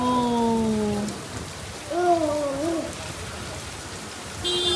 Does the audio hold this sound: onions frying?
no